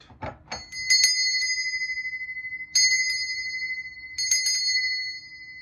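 A bell rings in a garden, three clear, bright metallic strikes spaced a couple of seconds apart, each ringing on and slowly fading, loud and close with no talking.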